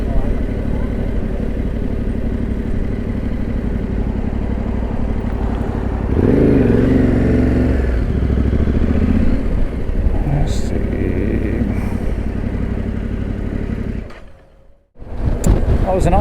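Yamaha T7 motorcycle riding down a town main street, engine droning steadily close up with a brief louder surge midway and wind buffeting, dipping near the end.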